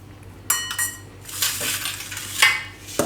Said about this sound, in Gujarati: આ બધું મિક્સ કરી લઉં આપણે એકદમ સરસ